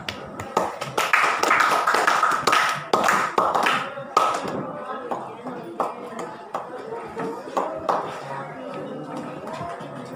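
Schoolchildren in a classroom clap together in quick rhythmic bursts of sharp, close slaps, loud at first and then tapering into looser scattered claps, with voices mixed in underneath.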